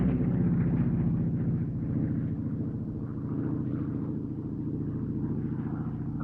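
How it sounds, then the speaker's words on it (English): A Harvard advanced trainer aircraft at a Duxford flying display, its propeller tips producing a rasping edge over a steady, loud, harmonic engine drone that holds throughout. "Now the Harvard makes a sort of unique sound"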